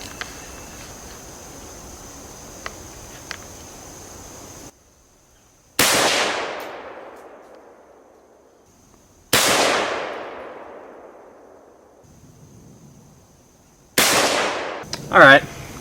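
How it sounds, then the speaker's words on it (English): An SVD marksman rifle fires 148 grain Tula steel-cased ammunition at a 100-yard range: three loud, sharp reports several seconds apart, each trailing off in a long echoing decay, with faint clicks and hiss between. "we're shooting 148 grain Tula ammo, just by the way, so it's pretty cheap steel cased ammo at 100 yards"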